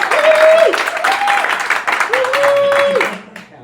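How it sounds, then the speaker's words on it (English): A live audience at a comedic Star Trek versus Star Wars debate cheers and claps, a loud crowd roar with whoops and tonal shouts swelling and fading over a few seconds before dropping off at the end. "Give us a cheer for Star Trek."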